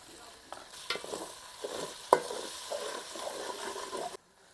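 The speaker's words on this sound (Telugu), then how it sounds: "పచ్చివాసన పోయేదాకా మంచిగా వేపుకోవాలి ఈ ఉల్లిగడ్డలను మిరపకాయలనే కదా" Onions and green chilies frying with turmeric in a pan for a large fish pulusu, a close sizzle with repeated spatula scrapes and knocks, ending abruptly in quiet.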